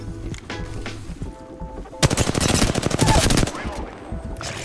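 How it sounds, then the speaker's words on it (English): Gunfire in a shooting video game: a loud, rapid burst of automatic shots rattles for about a second and a half, with scattered quieter shots and game noise before and after. "I'm getting shot from both my left and right"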